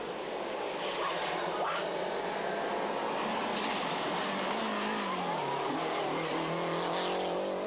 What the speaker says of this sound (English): This the Lancia of Frenchman Yves Loubet